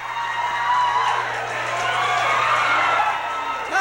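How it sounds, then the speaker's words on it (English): A wrestling arena crowd at a 1982 Southwest Championship Wrestling event cheers and shouts loudly and steadily, a dense roar of whoops and yells that swells slightly toward the end. "Listen to this crowd."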